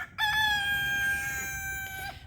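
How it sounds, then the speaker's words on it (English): A single Silkie rooster crows once, close and loud, a long drawn-out call lasting about two seconds against quiet surroundings. "My little silky rooster named Wesley."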